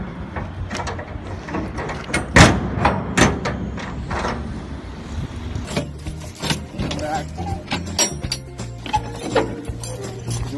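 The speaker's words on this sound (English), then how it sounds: "The right hand door closes in the left hand rod." Steel shipping container (Conex box) doors being swung shut, with a sharp metallic clang and several knocks and rattles of latching rods, close and loud, while someone talks over it.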